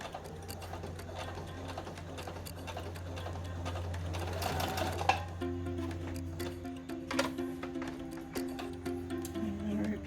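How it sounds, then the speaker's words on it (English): A sewing machine stitches the seams of a fabric bag, running in a steady, fast whirring patter close by, with a brief pause and handling sounds before it resumes. "So with our corners being pinned down, we're going to sew our seams shut."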